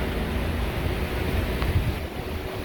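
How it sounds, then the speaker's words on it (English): Air rushes steadily out of the dash vents of a Dodge Caliber with the AC off and the fan on low, a close, even, broadband whoosh with no talk. "with the AC off, we're blowing out the vents"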